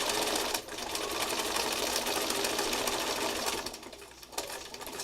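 A sewing machine runs steadily while stitching fabric scraps together, a continuous close whirring for nearly the whole stretch with a brief dip partway and another slowdown near the end.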